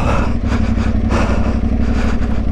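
An Aprilia Tuareg 660 adventure motorcycle runs steadily on a rough trail in the Yorkshire Dales, its engine a loud, close, continuous low drone with slight throttle fluctuations throughout.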